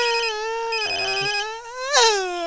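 A telephone rings during a comedy stage show, a loud sustained electronic tone with a pitch glide partway through, heard alone without talk.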